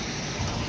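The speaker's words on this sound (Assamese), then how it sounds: "বৰষুণ যাক বেছি ডাঙৰকৈ দি দিলে" Heavy rain pours steadily at a roadside stop during a motorbike ride from Golaghat to Dibrugarh, a dense, continuous hiss with no voices.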